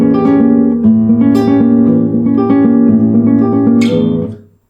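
An uneven, stumbling arpeggio on a fretted string instrument, with loud notes ringing and overlapping in a continuous line that fades out at the end; no talking.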